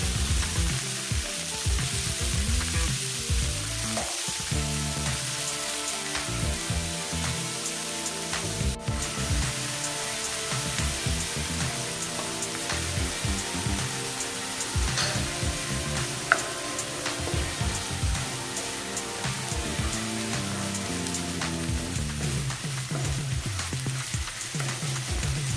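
Onion paste frying in a pan with green chillies for a Bengali rohu fish curry, a loud, steady, close sizzle that keeps up throughout with occasional stirring scrapes and no talking.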